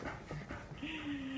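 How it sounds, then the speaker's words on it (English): Pet dogs Arnold and Albie pant and let out high, thin whimpers indoors during a storm, close and fairly quiet, with a drawn-out whine near the end over soft background noise. "My dogs are in."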